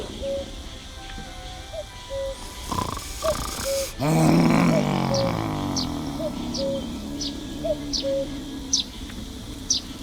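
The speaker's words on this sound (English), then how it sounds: "A cuckoo." Repeated two-note cuckoo calls ring out at a steady pace in a scene from The Night of the Rabbit, with a loud burst partway through and faint high chirps scattered on top.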